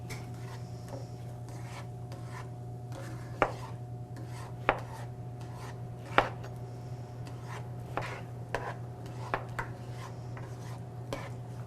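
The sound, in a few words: chopping vegetables with a knife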